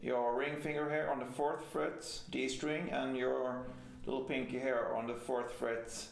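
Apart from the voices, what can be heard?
No distinct noise like a dog, phone or traffic.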